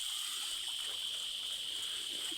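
Water flows steadily at the Sri Gubbala Mangamma temple, a continuous even rush that fills the whole moment, with a high bright hiss over it and no talking.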